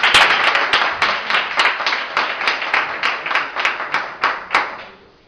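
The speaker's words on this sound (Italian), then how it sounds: "Date un applauso." Audience applauding at a singing contest, a rhythmic burst of hand claps close and loud, gradually thinning and fading out toward the end, with no talk over it.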